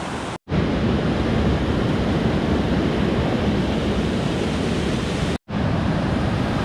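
Waterfall at Amnicon Falls State Park gives a broad, steady rushing roar of flowing water, loud and close, with two brief dropouts.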